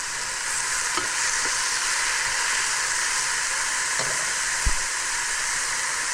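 A can of snails sizzles steadily in a hot pan with garlic, a broad close hiss broken by a few soft clicks and a single knock.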